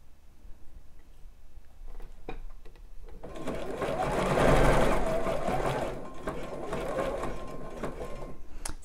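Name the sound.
sewing machine stitching elastic onto a bra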